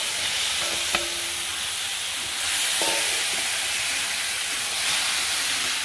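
Marinated prawns fry in a masala, giving a continuous loud sizzling hiss with steam that holds steady across the whole stretch. A few faint clinks sound near the start.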